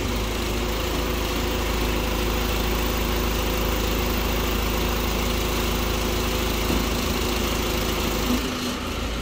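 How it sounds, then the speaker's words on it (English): A Marini MRP 350 remote-controlled piling rig's engine runs in a steady, loud drone as its main winch is lowered, close and unbroken throughout, with no talking. "Gonna lower the main winch a little bit more."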